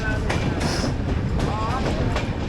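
The Poorva Express passenger train rumbles along in a crowded sleeper coach, a loud continuous roll with rhythmic clacks and faint squeals, while voices murmur in the carriage.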